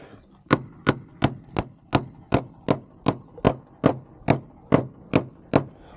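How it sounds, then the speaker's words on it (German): A masonry hammer strikes hard material about a dozen times in a steady, even rhythm, each blow sharp and close, with no talking. "Mit dem Maurerhammer können wir nicht so gut umgehen."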